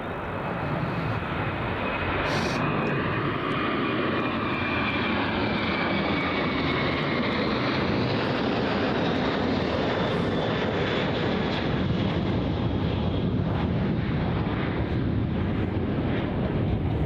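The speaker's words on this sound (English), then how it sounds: "Here goes QF35 rolling down runway 16 bound for Singapore." A Qantas airliner, flight QF35 bound for Singapore, takes off on runway 16 at Melbourne Airport. Its engines give a loud, steady roar that holds for the whole stretch, heard from a fair distance with no talking.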